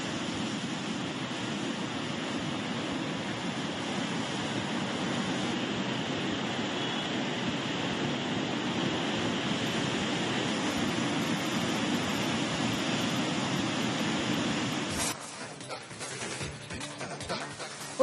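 The Phalguni river near Mangaluru, flooded and overflowing after heavy rain, makes a continuous broad roar of rushing water that holds steady for most of the stretch, then breaks up into rougher, choppier noise near the end.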